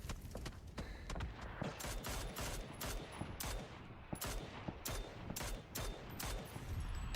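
Rapid gunfire in a competitive shooter match, a steady stream of sharp shots and bursts at moderate loudness with other game noise underneath.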